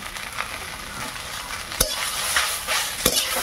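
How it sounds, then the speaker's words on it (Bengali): Water spinach (kalmi shak) fries in a pan in a village kitchen, a continuous hiss of sizzling oil punctuated by a few sharp stirring knocks and scrapes, with no talk. "সেই কলমি শাক ভাজা হচ্ছে"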